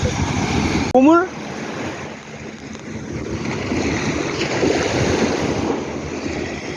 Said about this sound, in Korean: 파도 확 올라와.